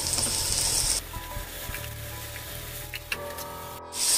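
Ginger garlic paste fries in a hot pan with a steady sizzle and light stirring scrapes. The hiss drops briefly and then swells again near the end.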